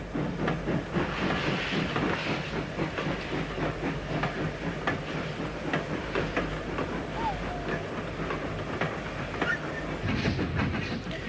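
A steam locomotive hauls a long train uphill, laboring with rapid rhythmic chuffing and hissing, accompanied by the rumble and clatter of rolling train cars, at moderate distance.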